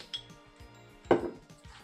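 A spoon scrapes and clinks in a pan as gram flour ladoo mixture with chili powder is stirred, a few light knocks followed by one sharper metallic clatter partway through.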